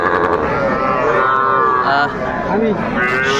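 Cattle lowing amid a busy crowd at the traditional Aftabganj livestock haat in Dinajpur, Bangladesh, where young Sahiwal bulls, heifers and cows are sold; a continuous drawn-out moo under steady market chatter and voices.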